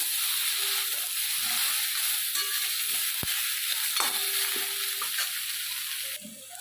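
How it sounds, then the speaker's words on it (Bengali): Soya chunks coated with turmeric fry in a pan with a steady, loud sizzle and hiss throughout, broken by scraping stirs and one sharp click near the middle. "সয়াবিনগুলোকে লাল লাল করে ভেজে নেব, আর একটু লালচে লালচে করে নেব।"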